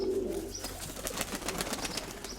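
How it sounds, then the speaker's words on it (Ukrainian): A young white pigeon taking off, a soft faint flutter of wing beats with a light coo-like call near the start, quiet and close against a low background hum. "Ну, Беленький вылетел голубеночек."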